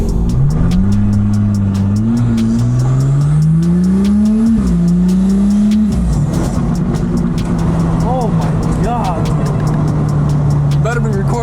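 Tuned Audi SQ5 making 650 wheel horsepower accelerates hard with a loud, close engine drone that climbs in pitch through gear changes, with rapid ticking and cabin noise, while people talk and shout over it.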